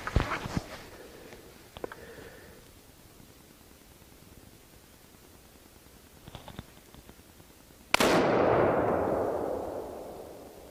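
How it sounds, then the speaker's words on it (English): A Remington 700 6mm rifle fires one loud, close shot at a swinging target outdoors, with a long rumbling decay after it. A few faint clicks and handling noises come earlier over a steady hiss. "Shooting a swinging target is kind of interesting."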